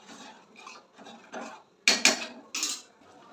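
A spoon stirs jackfruit kheer in a pot, making a series of close scraping and rubbing strokes with a few louder metallic knocks near the end, with no voices.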